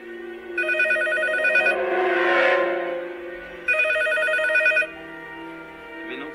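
A telephone rings in two long electronic trilling bursts separated by a pause, clear and close inside a horror film scene, with a low musical drone swelling between the rings.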